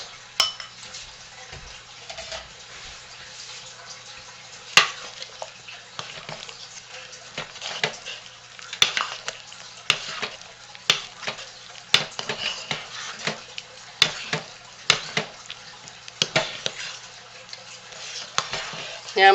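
A spatula scrapes olive oil, coconut oil, shea butter, glycerin and vitamin E out of a container for homemade lye soap, giving sharp, irregular clinks and scrapes against a quiet, steady hiss.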